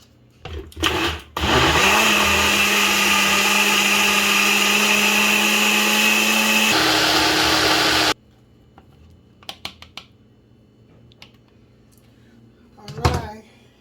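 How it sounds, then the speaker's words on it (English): A blender whirs loudly and steadily for about six seconds while mixing a keto cinnamon roll batter, then cuts off abruptly, leaving faint kitchen knocks and brief speech. "so now it's time to blend our mixture."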